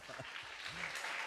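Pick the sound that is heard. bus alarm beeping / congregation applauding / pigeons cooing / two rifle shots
congregation applauding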